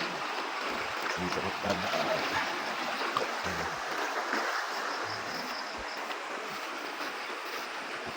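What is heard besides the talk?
river current flowing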